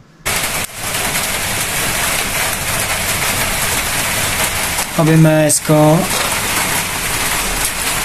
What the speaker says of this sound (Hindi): अभी बारिश हो रही है बाहर.